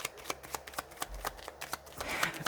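Playing cards are handled and shuffled up close for a few seconds, giving soft riffling bursts and papery slaps with no talking.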